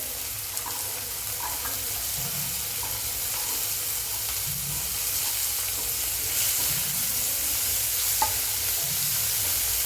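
Carrots sautéing in a pan after tomatoes give a continuous soft sizzle, with stirring strokes and light scraping recurring every couple of seconds.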